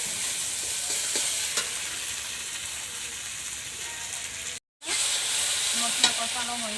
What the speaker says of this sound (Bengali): এখন এটা ভালোভাবে ভেজে নেব, যাতে কাঁচা গন্ধটা চলে যায়।